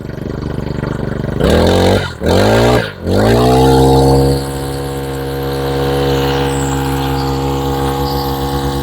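A Honda lawn mower's small petrol engine revs up loud and close, dips briefly twice, then holds a steady high-pitched drone that eases slightly toward the end.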